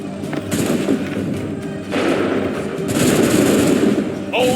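A musket volley in Assassin's Creed 3, a loud crackling burst of massed shots followed by another, amid battle noise and shouted commands.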